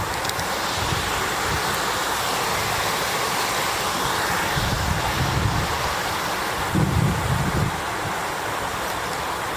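Water running near a bridge in Byker, heard as a steady broadband rush mixed with wind buffeting on the microphone, continuous and moderately loud with a few stronger gusts, no speech.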